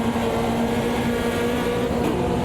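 A Fiat Uno race car in the Copa Uno series at Cascavel, in the game Automobilista 2, drones with a steady, loud engine note held at near-constant revs throughout, with no pauses.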